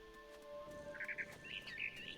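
Short bright chirps from a bird in the video game What Remains of Edith Finch, a few quick tweets in two bursts over a steady hum, moderately close and fairly soft.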